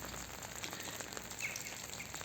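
Light outdoor rain on a Saturday morning in early spring gives a faint, steady patter with soft scattered drops, quiet and continuous, with no one speaking.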